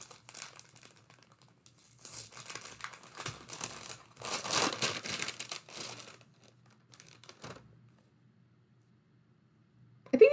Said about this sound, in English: So it's inside cellophane wrapping.